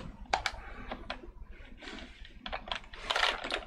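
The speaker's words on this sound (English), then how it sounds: "You know, I'm going to try it with the keyboard." Keyboard typing during a Fable Anniversary PC session: a quick run of close, crisp key clicks with short pauses, building into a denser burst of keystrokes near the end.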